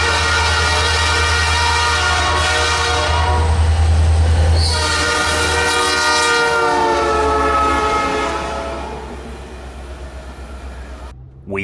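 Light engine freight locomotives rumble past loudly while a multi-tone air horn blasts repeatedly, its pitch shifting as the engines pass, then the sound drops away.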